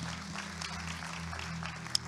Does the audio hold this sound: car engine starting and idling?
no